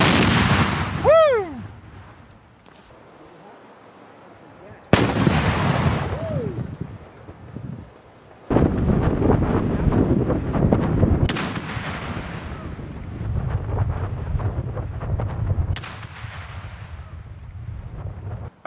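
Claymore mine detonations on an outdoor range, sharp loud blasts at about 5, 8.5, 11 and 16 seconds, each followed by rumbling wind-blown decay, with a whoop and brief talk near the start.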